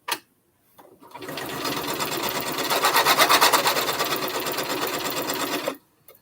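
A sewing machine stitches pieces for a Double Wedding Ring quilt. After a brief click it runs in one close, steady whirring burst of about five seconds, then stops abruptly, with no voices.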